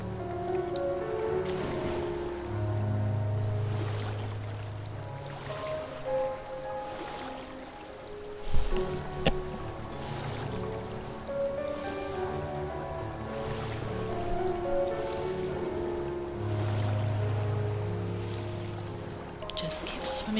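Splashy water sounds of a character swimming in Final Fantasy XIV, soft and continuous, layered under game music with sustained low tones and no talking.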